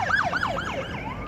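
An ambulance siren wails in quick rising and falling sweeps, clear and fairly close, filling the short moment on its own.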